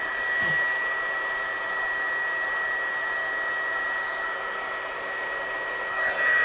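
A heat gun blows steadily to heat-set embossing powder on a stamped card, giving a continuous airy whir with a faint high whine. It runs alone and unbroken throughout, with no talking.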